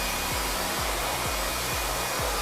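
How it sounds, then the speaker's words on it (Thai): A blower pushes air to dry a freshly washed air conditioner unit, a steady loud whooshing roar with no voices, and low knocking pulses repeat roughly every half second beneath it. "เป่าลมให้มันแห้งนะครับตอนนี้"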